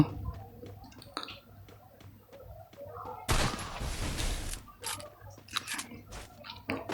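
A burst of rapid gunfire from a rooftop shootout in a first-person shooter game, loud and dense for about a second and a half in the middle, set among quieter clicks and game sounds.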